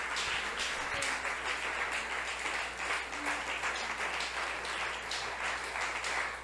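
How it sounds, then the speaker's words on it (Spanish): A church congregation claps loudly during a sermon, a continuous dense wash of many hands applauding with a steady low hum beneath it, sustained evenly for several seconds with no voices over it. "Aplauda lo más fuerte, por favor."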